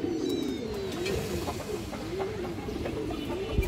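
Flying pigeons kept in a coop, including a female, coo in a continuous series of low rolling calls close by, with soft shuffling and clicks underneath.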